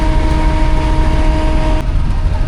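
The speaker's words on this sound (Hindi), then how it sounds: "चलो जी हैदराबाद पहुँच गई जी ट्रेन हमारी।" The Hazara Express, led by locomotive 9039, rolls into Hyderabad Junction with a loud, continuous rumble and faint high steel tones that break off near the end. No voices.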